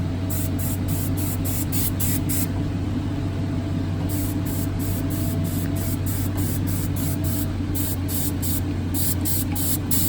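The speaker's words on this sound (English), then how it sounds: "Take the gun and just start spraying." An air-powered spray gun mists decontaminant inside an ambulance, hissing loudly in rapid, regular pulses over a constant low mechanical hum.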